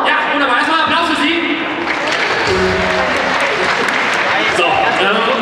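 Sustained applause from a convention stage audience at an anime fan event, dense and steady clapping filling the whole stretch with crowd noise, loud and close throughout.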